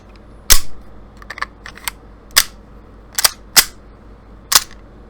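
A Steyr pistol's slide is racked sharply with a snap cap loaded, giving several crisp metallic clacks spaced unevenly over a few seconds, with a few fainter clicks between them and no voices.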